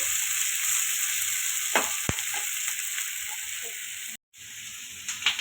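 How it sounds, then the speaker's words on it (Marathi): A ground masala paste for a pea and potato curry roasts in a pan with a constant bright hiss, a few faint stirring scrapes, and a brief gap in the sound near the end. "हे बघा आपला चांगला मसाला भाजत आलेला आहे"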